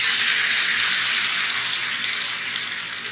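Chicken pieces dropped into about two tablespoons of hot oil for a chicken maqluba, giving a loud, steady frying sizzle that runs unbroken and slowly eases off slightly, with no talking.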